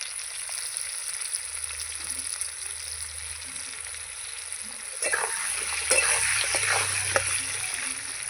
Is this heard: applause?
no